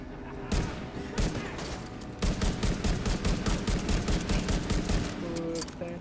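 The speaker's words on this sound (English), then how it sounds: "I'm shooting at him." Gunfire in The Division 2 video game, heavy overlapping bursts of loud automatic shots in an intense firefight, sharp cracks repeating rapidly and unevenly throughout, with brief electronic beeps near the end.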